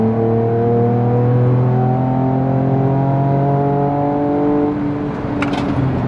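Ford Ranger Raptor exhaust in Baja mode under acceleration, a loud, steady engine drone with rising tones held close for about five seconds, fading slightly near the end.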